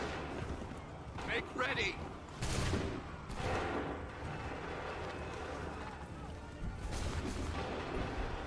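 Musket volleys in the Assassin's Creed III video game: several loud, sharp bursts of gunfire crack out over shouted commands, with battle noise and running in between.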